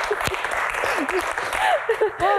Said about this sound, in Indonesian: Tepuk tangan untuk Bang Hensat